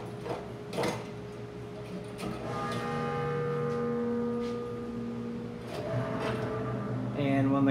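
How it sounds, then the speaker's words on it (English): Steel pull-chain bells on a puzzle prop ring with long, sustained tones that overlap and slowly fade, followed by a few mechanical clanks and a fresh bright strike at the end. "This is our steel pull chain bells puzzle."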